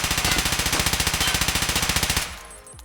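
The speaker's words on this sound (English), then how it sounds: "This is the M4. Slightly controlled the recoil there." Rapid automatic fire from a modded M4 rifle in Escape From Tarkov, about thirty loud, evenly spaced shots in a steady burst of roughly two seconds with recoil held in check, then a short fading tail.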